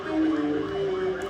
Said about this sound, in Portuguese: Sirene de carro, buzina de carro, moto, criança gritando, os pais também.